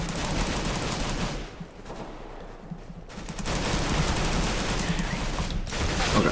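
Gunfire from the Counter-Strike: Global Offensive video game, played in gun game mode. Loud, dense bursts of rapid shots run through most of the clip, with a short quieter lull in the middle.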